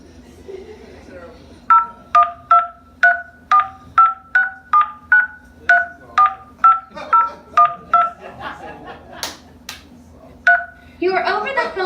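A telephone keypad sends a card number for an over-the-phone bill payment as a quick run of about seventeen loud, crisp DTMF beeps in an uneven rhythm, followed by a brief burst of voice at the end.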